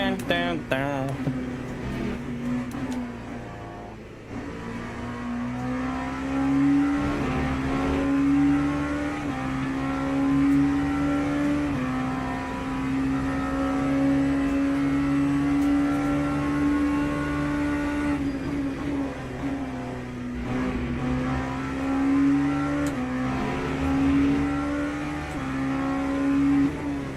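LMP3 race car engine in the sim racing game Le Mans Ultimate, a loud sustained drone that holds steady pitch with brief dips and rises through shifts, continuous over nearly thirty seconds with no talk.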